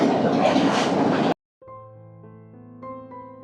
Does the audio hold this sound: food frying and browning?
no